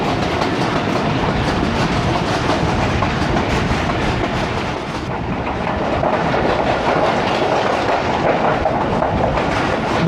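A passenger train runs between Lahore and Narowal past green fields in rainy weather, with a loud continuous rumble and rhythmic wheel clatter on the rails heard from inside the carriage.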